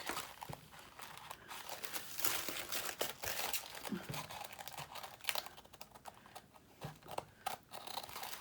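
Paper journal cards being cut, with close, dry crinkling and snipping sounds in irregular bursts, fairly quiet and without talk.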